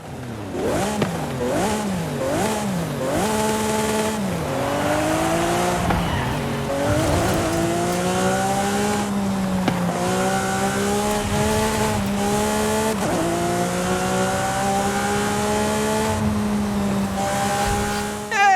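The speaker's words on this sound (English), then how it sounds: "Lamborghini sound is still a Lamborghini at the end of the day." A 1500-horsepower Lamborghini Aventador SVJ engine in Forza Horizon 5 revs hard through repeated gear shifts, whining up and down with tire squeals, loud and continuous.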